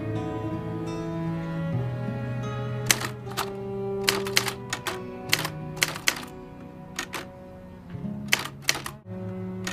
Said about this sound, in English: Punch the keys!